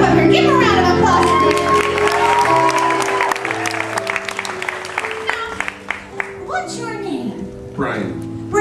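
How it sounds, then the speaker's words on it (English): Audience applause and cheering at a club final night show, steady clapping from a crowd that fills the room, with some shouts mixed in and a host's voice speaking over it toward the end. "Give her a round of applause."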